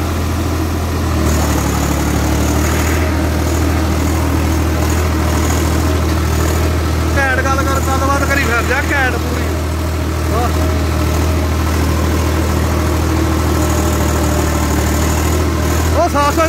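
A Swraj 855 FE tractor engine runs steadily nearby with a deep, constant low rumble, while someone talks over it throughout.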